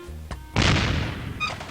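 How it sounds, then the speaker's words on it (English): A cannon fires in a video game with one sharp, heavy boom that decays over about a second, followed by a faint bright chime. "We just need to use the cannon."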